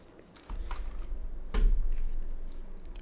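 A few scattered clicks on an AJAZZ AK33 RGB keyboard over a low background rumble, with one sharper tap standing out midway.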